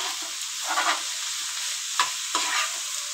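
Leafy greens stir-fried in a pan at home make a continuous hissing sizzle, broken by a few sharper scraping stirs of the spatula, close and unaccompanied by talk.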